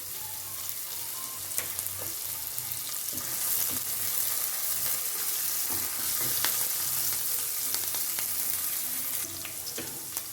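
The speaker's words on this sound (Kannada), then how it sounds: "ಹಸಿಮೆಣಸಿನ್ಕಾಯಿ ಫ್ರೈ ಆಗ್ತಾಯಿದೆ" Green chillies frying in oil in a pan, giving a continuous close sizzle and crackle with occasional faint clicks, steady throughout.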